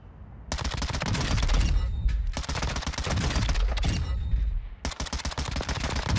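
Loud, close gunfire from a Lachmann Shroud in Call of Duty, with rapid strings of shots that run nearly continuously, broken by a few brief pauses.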